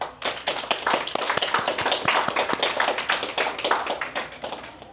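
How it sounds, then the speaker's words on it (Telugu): A group claps after a meditation session, a dense run of close, sharp hand claps that carries on steadily before tapering off. "ఈరోజు మెడిటేషన్కి ఒకసారి గట్టిగా చప్పట్లు కొడతాం"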